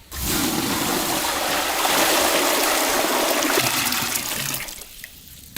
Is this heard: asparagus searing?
no